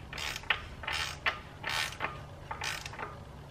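A ratchet tightens an oil filter during an oil change, producing quiet close clicking and creaking bursts in a steady rhythm of about five strokes, with no voices.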